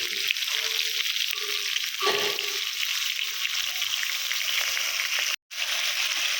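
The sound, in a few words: meat frying in a pan for Bengali biryani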